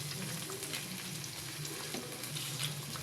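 Onions and tomatoes sauté in a pan for a Filipino gatang gulay vegetable dish, giving a continuous, even sizzle with light watery crackle throughout and no voices.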